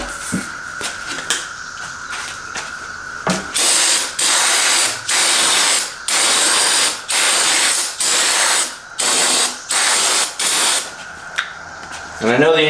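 Brake cleaner sprays in short, evenly spaced bursts onto spilled fuel on a 2013 Grasshopper diesel mower, close and loud, with clicking handling noises before and after.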